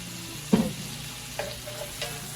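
Shrimp sizzle steadily in a hot buttered pan while a utensil stirs them. A few louder scraping pushes break through the constant frying hiss up close.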